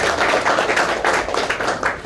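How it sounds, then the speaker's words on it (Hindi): A seminar audience claps loudly for an honoured mentor. The hall is full of a thick, continuous burst of many hands clapping at once, rising and falling slightly in waves across the short stretch. "एक बार जोरदार तालियां कीजिएगा"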